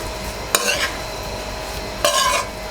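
A spoon stirs tawa pulao with butter in a pan, giving two distinct scraping, mixing strokes over a steady background hiss, close and fairly loud with no talking.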